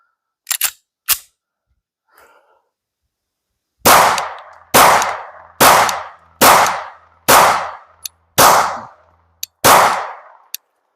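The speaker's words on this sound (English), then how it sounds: "So let's go ahead and pop some more rounds down range." A Glock 19 pistol fitted with a Leo Precision Oden slide fires at an outdoor range. A few quick shots come first, then seven loud, evenly spaced shots, each with a short echoing tail.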